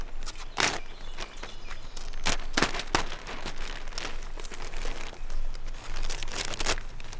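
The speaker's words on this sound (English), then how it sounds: "Try to cut down the seam." A plastic sheet being cut along its seam outdoors: irregular bursts of crinkling and tearing, close to the mic, with sharp rustles over a noisy outdoor background.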